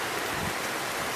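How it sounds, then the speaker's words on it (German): Steady rain falls over a garden in a dense, even hiss with no break, close and moderately loud, with no voices. "Es regnet."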